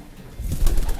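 Pigeons with white claws cooing inside a loft, a low burbling coo that swells midway and continues close and fairly loud.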